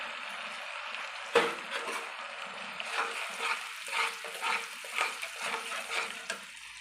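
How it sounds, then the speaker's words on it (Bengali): Ginger garlic paste goes into browned onions and oil with a little sugar, sizzling softly while a spoon stirs and scrapes the pan in a steady rhythm of strokes. "এবার বেটে রাখা আদা রসুনের পেস্টটা দিয়ে দিলাম।"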